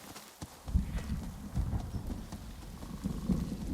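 Horse hooves clop on the ground in Ghost of Yotei, a soft irregular series of thuds at moderate distance over a quiet background.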